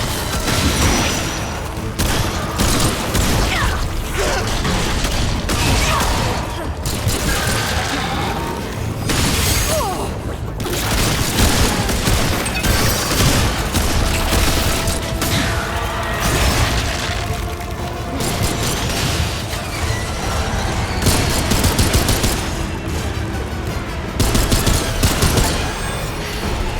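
Heavy sustained gunfire and booming blasts in the Remnant 2 PC video game, loud and dense bursts of rapid shots continuing almost without a break, with faint voices now and then.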